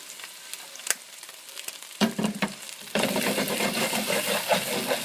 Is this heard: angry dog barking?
no